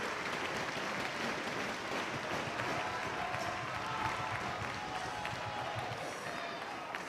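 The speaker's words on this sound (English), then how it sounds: "This crowd comes alive, encouraging Cabana to get back to his feet" Arena crowd roaring and cheering at a steel cage wrestling title match, Austin Aries against Colt Cabana, a dense continuous wall of voices and applause held at steady loudness, with no single voice standing out.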